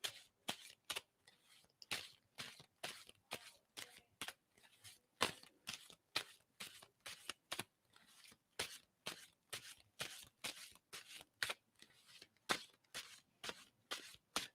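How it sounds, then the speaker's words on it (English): Tarot cards are riffled and shuffled in quick, rhythmic bursts, each crisp flutter repeating steadily, close and alone. "Anytime I'm going to stop shuffling,"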